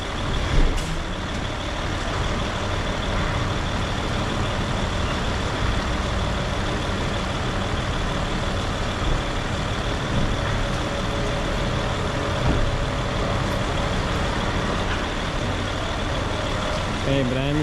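Heavy truck during a brake check, its engine running in a steady, loud, continuous drone for the whole stretch, with a short sharper burst near the start.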